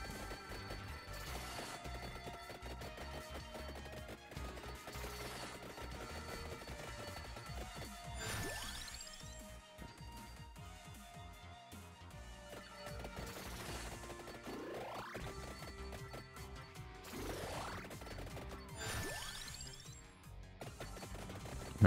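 Dense, continuous clattering bursts and crashes from explosions and weapon effects in the video game Vampire Survivors, layered over game music at moderate level for the whole stretch.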